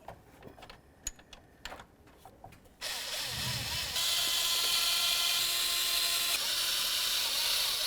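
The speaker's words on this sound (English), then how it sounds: "Start in all the rest, then we'll snug them up." Bolts on a fuel rail sensor bracket of a 2006–2010 Ford Explorer are threaded in by hand with a few sharp clicks and taps, then a power tool whirs steadily and loudly to snug them, close up.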